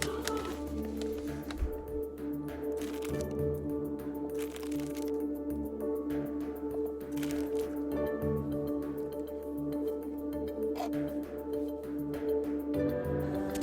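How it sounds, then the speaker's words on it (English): Potting mix is poured and pressed in around a bonsai root ball, giving soft crunchy squishes and gritty crackles in uneven bursts, faint and close against a low background hum. "you're just gonna fill in the rest of the area with a good layer of potting mix"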